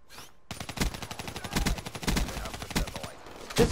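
Rapid automatic gunfire in Black Ops 3, a dense run of close, sharp shots firing in quick rhythm for a few seconds.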